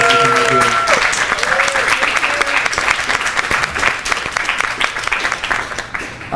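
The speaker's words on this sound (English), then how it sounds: "y'all please give a round of applause for our panelists who came up here" An audience applauds panelists at a tech career event, with sustained, loud, dense clapping throughout and a brief tone at the start.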